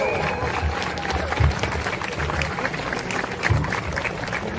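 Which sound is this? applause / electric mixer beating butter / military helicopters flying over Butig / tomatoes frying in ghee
applause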